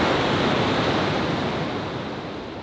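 Continuous ocean surf roars steadily on a Los Angeles coast, a dense broadband wash of breaking waves with no voices, loud and close, easing off slightly toward the end.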